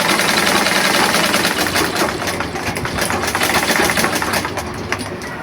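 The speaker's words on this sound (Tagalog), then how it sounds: "Itahin natin ito dito." A sewing machine stitches long pants in a loud, continuous whirring run, close up, with no pauses.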